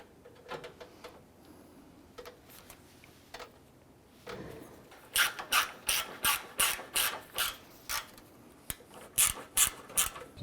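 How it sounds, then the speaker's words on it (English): A ratchet wrench tightens a bolt on the A/C condenser of a 2009-2015 Honda Pilot, first with soft, scattered clicks, then a close, loud run of steady rhythmic ratcheting bursts. "Let's go ahead and tighten that down."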